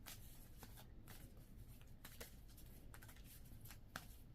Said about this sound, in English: I like to redo, you know, reshuffle too